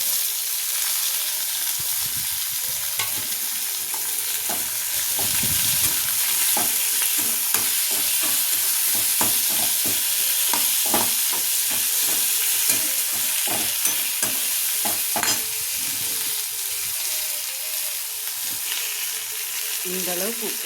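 Tomato, onion, mint and coriander sauté in a hot pan, a constant close sizzle broken by repeated scraping stirs of a spatula, steady throughout with no talk.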